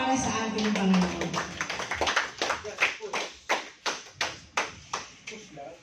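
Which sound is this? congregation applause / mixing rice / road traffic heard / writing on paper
congregation applause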